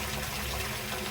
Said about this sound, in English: they heard the water come on